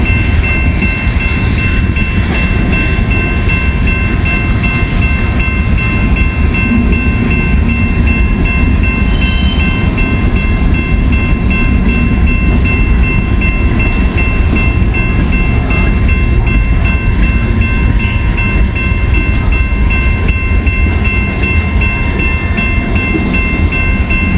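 A regular coal train rolls past in sunshine, a steady loud rumble of railcars with faint rhythmic wheel clatter running through the whole stretch, no voices.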